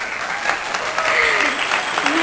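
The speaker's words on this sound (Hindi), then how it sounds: "चलो तालियां बजाए कंटेस्टेंट के लिए।" Applause greets a new contestant on a stage at a family gathering, steady clapping at moderate level lasting a couple of seconds, with some voices faintly mixed in.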